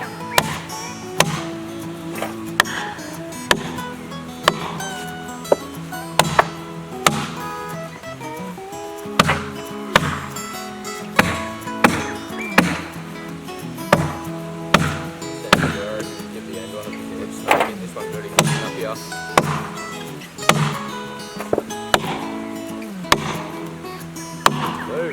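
Sharp, repeated whacks of wedges being driven into a chainsaw-cut log ring out in an irregular rhythm, with the wood creaking and cracking between blows, close and loud with no talk.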